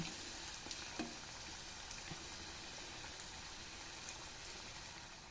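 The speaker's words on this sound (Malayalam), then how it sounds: "സമൂസ തിരിച്ചു മറിച്ചൊക്കെ ഇട്ട് ഞാൻ ഫ്രൈ ചെയ്തെടുത്തിട്ടുണ്ട്" Samosas frying in hot oil, being turned over, give a steady close crackling sizzle with scattered pops and a few soft clicks, no voices.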